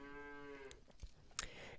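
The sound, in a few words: cow mooing in Super Auto Pets video game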